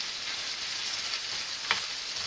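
Ground meat browning in a pan for lasagna, giving a steady, close hiss of frying and sizzling with one brief clink or scrape near the end, no talking.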